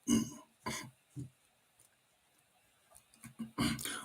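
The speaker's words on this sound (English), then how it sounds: "Excuse the cough." A man's cough, heard as a few short harsh bursts close to the microphone, spaced over a few seconds with quiet gaps between them during a Championship football watchalong.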